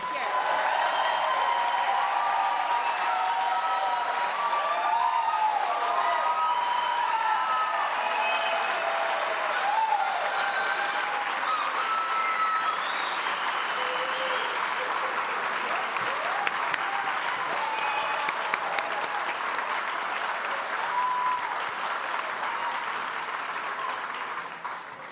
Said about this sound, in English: Let's have another round of applause for all of the graduates.